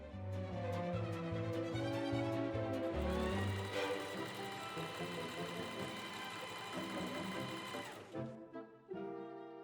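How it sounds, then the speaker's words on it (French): Close, steady whir of a sewing machine stitching elastic onto fabric for a bohemian dress, running continuously for several seconds before stopping near the end. "Piquez les deux côtés de l'élastique en alignant le bord du pied de biche avec le bord de l'élastique"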